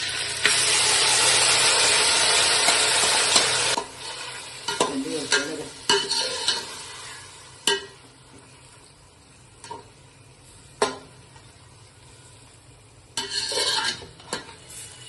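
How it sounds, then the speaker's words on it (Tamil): Marinated hariyali chicken goes into a hot pan with a loud, dense sizzle for a few seconds. Quieter frying follows, broken by intermittent scrapes and clinks of a spoon stirring against the pan. "மேரினேட் பண்ணி வச்ச சிக்கன் இருக்குல்ல, ஹரியாலி சிக்கனை, அதை அப்படியே உள்ள போடணும்."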